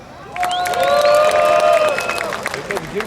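Men in an outdoor Midsummer (Joninės) festival crowd in Elektrėnai clap on cue, a dense burst of applause rising quickly and holding for about two seconds before thinning, with cheering and whistle-like tones mixed in.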